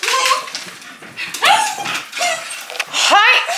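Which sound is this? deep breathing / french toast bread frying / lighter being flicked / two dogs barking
two dogs barking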